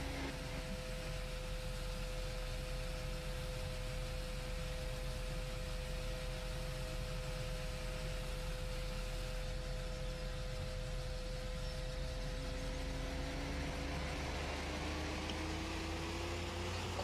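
A Fendt 724 tractor in Farming Simulator 2013 drones steadily while compacting, a constant low engine hum with a faint tonal whine that rises slightly near the end, with no voices.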